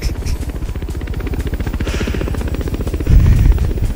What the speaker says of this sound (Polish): No i mam śmigłowiec, pokazać wam śmigłowiec.